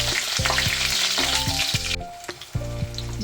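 Onion fries in mustard oil in a wok, giving a loud, continuous sizzle over steady tonal music.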